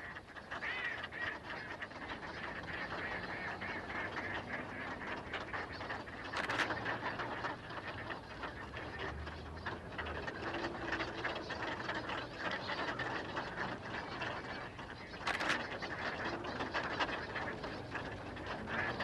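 Ducks and geese call from a bird-filled spot outdoors, with faint, scattered quacks and honks over a steady outdoor hiss and two brief louder bursts, all at a distance and with no speech.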